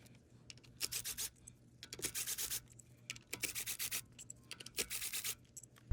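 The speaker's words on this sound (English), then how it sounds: "next you're going to remove the 10mm bolts" Ratchet turning out 10 mm bolts from the ignition coils on a Scion tC engine, close and quiet, in short scraping bursts of clicks with brief pauses between them.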